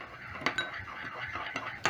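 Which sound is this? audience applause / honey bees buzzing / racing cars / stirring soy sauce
stirring soy sauce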